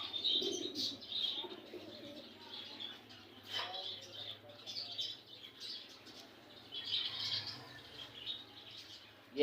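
Pigeons cooing and other birds chirping inside a bird shop that also keeps parrots in cages; soft repeated coos and bright tweets overlap throughout, with occasional wing flutters and someone talking at moderate distance.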